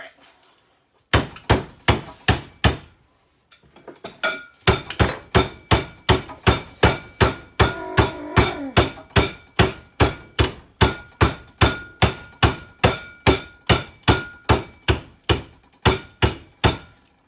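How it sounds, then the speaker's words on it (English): Chicken breast under plastic wrap is pounded with a mallet, loud close thuds in a fast steady rhythm after a few opening blows and a brief pause, continuing without talk. "Now don't pound it so thin that you actually split the chicken apart."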